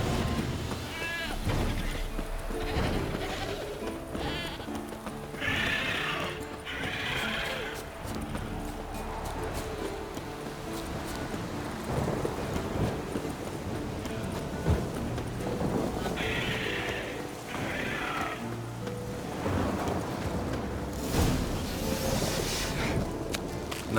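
A warhorse in The Witcher 3 video game neighs and whinnies in short bursts while hooves clop, mixed with game sounds and faint background noise.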